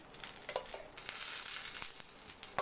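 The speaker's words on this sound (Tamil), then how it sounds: "இப்போ சுற்றி வந்து எண்ணெய் விட்டுக்க போகிறேன்." Oil drizzled around a hot stone griddle before frying sankara fish crackles in a close, bright sizzle scattered with sharp pops and spits, with no voices.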